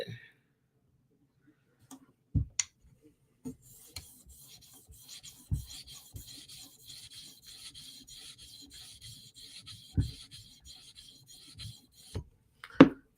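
A knife is drawn across the abrasive of a TSProf Kadet guided sharpener in light, intermittent rasping strokes, close and quiet, broken by sharp clicks and knocks of the rig.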